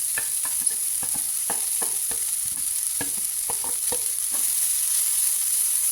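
Chinese cabbage and green chillies tossed into a hot pan while making steamed soya dumplings, giving a steady sizzle with a string of sharp stirring scrapes and clacks scattered throughout, no talking.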